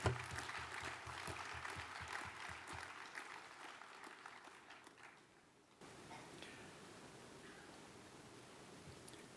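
Graduation ceremony audience at an RMIT University degree conferment applauds graduates, distinct claps at first that thin and fade out, followed by quiet hall ambience.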